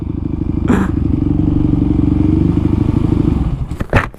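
A Honda Ruckus scooter idles steadily with a low, even engine rumble, then a short clatter and knock follow as it is leaned up against a wall.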